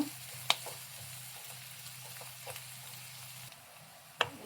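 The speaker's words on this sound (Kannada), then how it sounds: "ಸ್ವಲ್ಪ ಗೋಲ್ಡನ್ ಬ್ರೌನ್ ಬರೋವರೆಗೂ ಈರುಳ್ಳಿನ ಫ್ರೈ ಮಾಡ್ಕೊಳ್ಳಿ, 1-2 ನಿಮಿಷ" Onions frying toward golden brown with dried red chillies in a pan for a dry cluster bean dish: a quiet, steady low sizzle with two sharp utensil clicks near the start and end.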